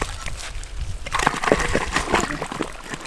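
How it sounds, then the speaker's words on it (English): Water drains through the ground into a drilled hole in a ranch pasture, with splashing and sloshing starting up after a quieter moment and continuing in irregular gurgling bursts nearby. "It's probably water drainage."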